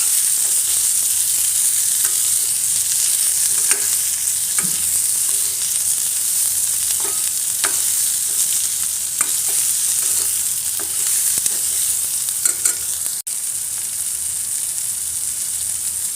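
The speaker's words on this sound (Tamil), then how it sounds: "அடுத்து அஞ்சு ஆறு வாழை மிளகா போட்டுக்கலாம்" Banana chillies fry steadily in hot oil with a continuous close sizzle, broken by repeated scraping stir strokes of a spoon in the pan, with no voices.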